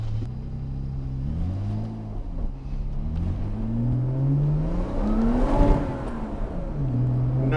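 A Komotec-tuned Lotus Exige making 460hp revs hard, its engine note sweeping up and down through several loud, close blips and then settling back, with no voices.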